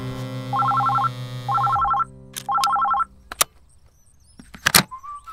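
An electronic telephone ring sounds in three short trilling bursts with pauses between, followed by clicks and clunks of a handset being picked up.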